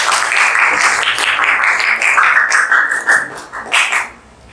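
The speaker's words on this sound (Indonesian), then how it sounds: "Tepuk tangan." An audience claps in a steady, dense burst of applause that fills the room, then tapers off toward the end as a voice speaks briefly over it.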